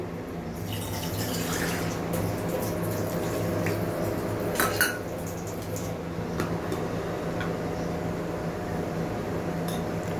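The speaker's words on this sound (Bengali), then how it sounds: "আর একটু জল লাগবে।" Water goes into a pan of fried masala for a prawn curry, a soft running pour with light clinks of a pot and utensils in a quiet kitchen.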